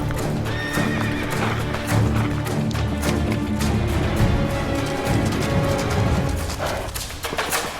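Galloping horse hooves clatter steadily under a busy, music-like background, with loud whinnies breaking through; the horse is ridden out of the city toward Lexington in a 1775 Battle of Lexington Green showcase.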